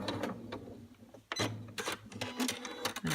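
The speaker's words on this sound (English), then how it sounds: "So keep sewing slowly, and then once you get to the end of your block, go ahead and back stitch again." A sewing machine stitches pieced quilt blocks at a slow pace, its motor whirring in uneven bursts with short pauses and clicks between runs, close and fairly quiet with no talking.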